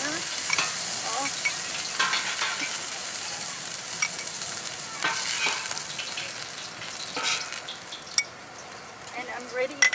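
Seafood sizzling and frying in a hot paella pan, a steady bright hiss with occasional clinks of utensils and stirring, close by and continuous.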